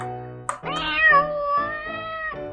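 A cat lets out a long, drawn-out meow close by, rising and wavering, preceded by a short chirp.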